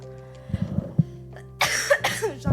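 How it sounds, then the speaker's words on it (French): A person coughs several times, a few short rough coughs followed by a harsher, louder burst, close up with faint music in the background. "J'en ai marre de tousser."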